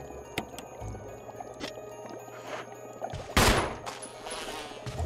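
A single sharp pistol shot rings out in Resident Evil HD Remaster, a brief loud burst over a low droning game ambience with faint scattered clicks around it.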